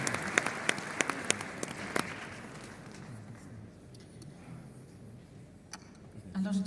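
Conference audience applauding a speaker being welcomed to the stage at an inaugural session in Marrakech, sharp claps ringing out at first then thinning into a softer, scattered patter.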